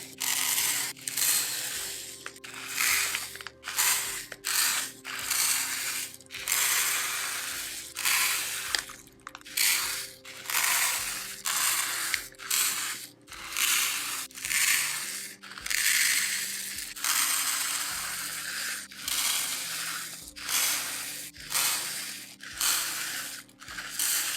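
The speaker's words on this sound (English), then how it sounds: "And now you can enjoy some of the relaxing pouring sounds of the beads." Tiny Artkal mini plastic beads pour in long hissing, rattling streams, rising and stopping repeatedly for about twenty-four seconds, close and fairly loud with no talking, over soft background music.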